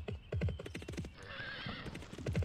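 In the Barbie Race and Ride video game, a horse clops along in quick rhythmic hoofbeats, pauses for a drawn-out neigh, then resumes clopping, all close and fairly loud.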